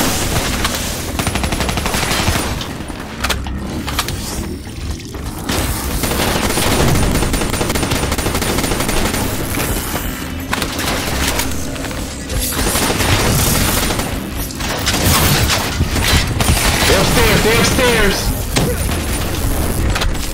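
Gunfire in the video game Call of Duty: Black Ops 3, loud bursts of automatic fire and shots going on throughout, mixed with game noise and people talking over it.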